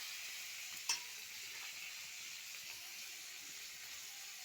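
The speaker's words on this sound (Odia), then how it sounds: "ଶୁଖୁଆ ପକେଇଦେଲି ଭାଜି ହେଇଯାଉ।" Dried fish (sukhua) frying in a pan, a faint steady sizzling hiss at close range with one brief clink partway through, and no talking.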